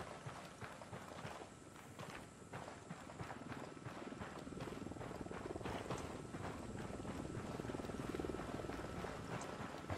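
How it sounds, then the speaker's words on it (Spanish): A helicopter closes in during a Ghost Recon Wildlands game session, its rotor chop a dense, steady rhythmic thudding that fills the whole stretch at fairly constant loudness, without speech. "Se acerca un helicóptero al suelo."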